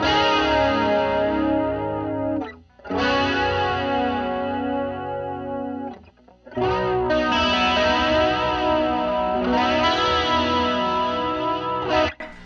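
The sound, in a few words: electric guitar through chorus pedal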